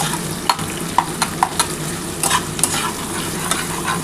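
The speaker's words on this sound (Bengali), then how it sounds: "এবার এটা খুব ভালো করে একটু ভাজা করতে হবে" Cumin and other spices sizzle steadily in a hot pan while a utensil scrapes and taps through them in a handful of sharp, irregular strokes, close up, with no talking.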